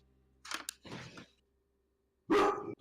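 A person imitates a dog, giving a few short, breathy bark-like yelps, then a pause and one louder, rougher bark, close to the microphone.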